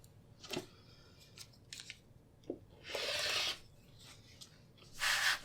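A rotary cutter slices quilt fabric into straight strips, heard as several short crisp rasping cuts, including two longer, louder strokes near the end, set against a quiet room with no talking.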